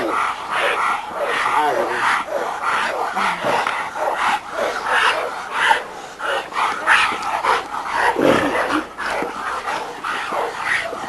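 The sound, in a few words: dog barking in a dog yard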